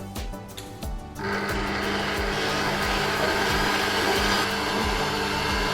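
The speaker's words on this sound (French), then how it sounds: "Je vais déjà mettre mes blancs à monter tranquillement." An electric mixer starts up and whips egg whites for a tiramisu roll cake, a loud steady whirring drone with a rhythmic pulsing beat, after a few quiet clicks at the start.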